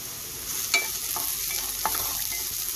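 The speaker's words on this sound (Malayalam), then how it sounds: "നല്ലതുപോലെ ഒന്ന് വഴറ്റിയെടുക്കണം." Chopped onions sautéing and being stirred in a pan for a broccoli and moong bean stir-fry, a steady close sizzle with a few sharp clicks of the spoon against the pan, no voices.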